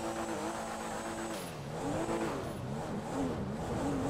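A modified Enus Cognoscenti Cabrio convertible in GTA 5 Online revs continuously, its engine note rising and falling in pitch across several throttle sweeps, loud and close with no talk over it.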